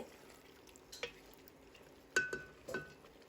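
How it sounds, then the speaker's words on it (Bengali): Beef tehari meat being stirred in a covered pot with the lid lifted off, heard as a few faint, sparse metallic clinks and scrapes of spoon and lid against the pot. "ঢাকনা খুলে নাড়িয়ে দিচ্ছি"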